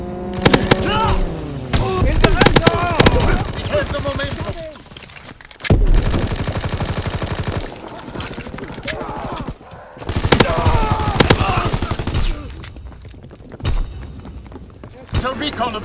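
Rapid bursts of gunfire in a WWII video game, machine-gun volleys and single shots crackling in repeated clusters with short pauses, loud and close, while voices shout over the battle.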